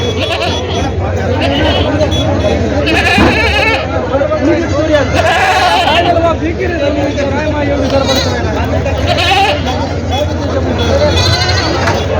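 Goats bleat repeatedly amid a crowded livestock market in Vasmat, Hingoli district, a loud continuous din of bleats and the murmur of many voices, with people chattering throughout.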